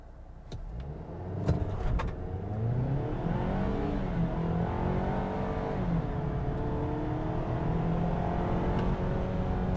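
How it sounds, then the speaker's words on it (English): A 2022 Ford Maverick Lariat pickup with a 2-liter turbo engine accelerates hard from 0 to 60, its engine note climbing steadily in pitch and staying loud and continuous throughout, with no voices. "let's go ahead and test out what the 0 to 60 is like for this vehicle"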